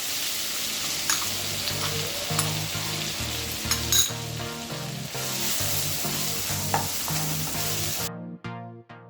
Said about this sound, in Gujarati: રાઈ અને જીરું સરસ આપણે ક્રેકલ થવા દઈશું। હવે જે આપણે આ વટાણાની પેસ્ટ કરી મૂકી છે, એટલે જે ગ્રાઇન્ડ કર્યા છે એ નાખીશું।